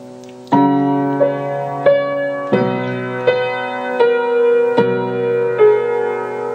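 Piano plays a bar of a piece from Twilight, a series of struck notes with sustained bass chords decaying between evenly spaced attacks, clear and solo without voices.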